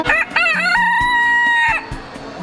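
A rooster at a poultry and bird show gives one loud, close crow, its rising then sustained harmonic call lasting nearly two seconds before trailing off.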